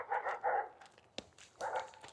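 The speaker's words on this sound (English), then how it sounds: "there's, like, dogs up in that hill" Dogs barking on a hillside behind fences, a few short sharp bursts at a distance, loud clusters near the start and end with a sharp click in between.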